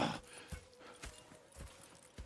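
Horse hooves clip-clop in Red Dead Redemption 2, about five evenly spaced soft thuds over a quiet background, moderately close and faint.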